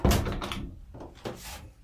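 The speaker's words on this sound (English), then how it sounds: "Let's make sure our shower doors open up." The shower door on a Grady White 456 Canyon boat opens with a close thunk followed by a sliding rumble and a second knock as it settles, all within two seconds.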